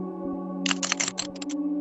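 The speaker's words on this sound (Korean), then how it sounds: "키보드를 막 치는 소리가 들린 거예요" Rapid keyboard typing, a quick run of clacking keystrokes in uneven bursts, close by over a steady electrical hum.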